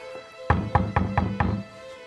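Five firm knocks in quick succession on the front door of a house in a wealthy suburb on Sydney's northern beaches, close and clear with no voices.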